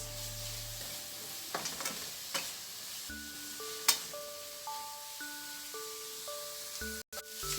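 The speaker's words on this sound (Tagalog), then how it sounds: "pwede na natin idagdag ang ating shrimp paste. Ayan, igisa lang natin ito siya." Shrimp paste for adobong sitaw sautés in a pan with a steady soft sizzle, with a few sharp clinks and scrapes of stirring over a quiet hum.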